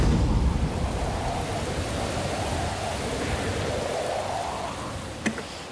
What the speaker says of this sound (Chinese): 哇，这个雨， 好大雨啊！